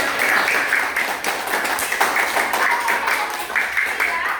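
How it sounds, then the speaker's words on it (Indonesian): A grade 6 class claps together in a classroom, a steady dense patter of many hands lasting several seconds, loud and close, with a voice speaking over it. "beri tepuk tangan untuk kalian semuanya"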